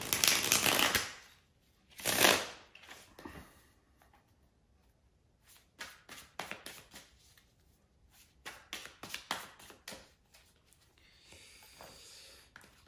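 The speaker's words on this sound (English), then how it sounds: "bear with me a second, guys, to shuffle the tarot cards." Tarot cards are shuffled by hand at close range, in several quiet bursts of riffling and sliding, separated by short pauses.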